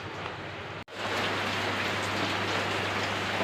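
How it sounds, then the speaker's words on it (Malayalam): Heavy rain pours down in a dense, steady roar that fills the air, broken only by a brief dropout near the start, with no voices present. "നല്ല മഴയുണ്ടാ"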